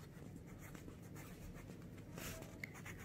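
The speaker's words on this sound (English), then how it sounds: "write your name at the last" A sketch pen writing on paper, faint light scratchy strokes in short bursts against a quiet background.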